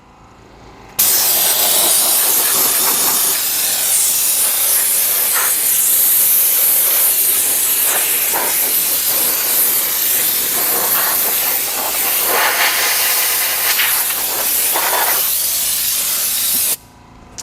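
Engine-cleaning solution spraying from a hose during car detailing: a loud, continuous hiss that starts abruptly, holds steady for about sixteen seconds, then cuts off.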